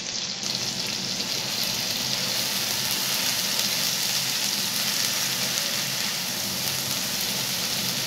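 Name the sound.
onion paste frying in mustard oil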